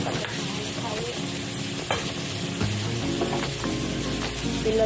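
Cooking oil swirled around a hot pan, giving a steady sizzle with irregular scraping and knocking of the stirring utensil against the metal.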